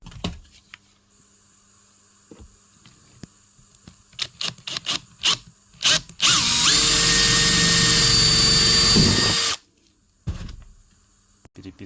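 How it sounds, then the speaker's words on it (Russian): A screwdriver drives a screw into a plastic window sill flashing with no pilot hole, on a window being fitted in a frame house. A burst of sharp clicks and knocks comes first, then a loud, steady whirring grind runs for about three seconds and stops abruptly. "буду прикручивать без сверловки такой отверткой, чтобы ничего там не попортить по отливу"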